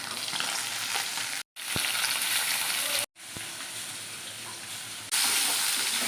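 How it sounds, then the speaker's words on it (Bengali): Bhola fish fry crisply in hot oil, giving a loud, continuous close-up sizzle that is broken by two brief silent cuts and swells slightly louder in the final second. "মাছগুলো একদম কড়কড়া করে ভাজা হয়ে গেছে"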